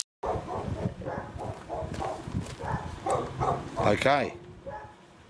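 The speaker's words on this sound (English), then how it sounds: "And I apologise for the dogs, they're playing up." Dogs playing and barking indoors, with repeated close yips and bow-wows through the clip and a rising whine near the end, beneath a man's speech.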